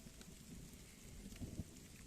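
Steady rain hisses faintly and evenly while a low thunder rumble swells briefly underneath, with no voices.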